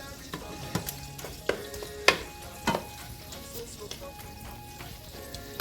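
Shrimp sizzles steadily in a hot frying pan, with occasional sharp clinks and scrapes of a utensil stirring, no voices.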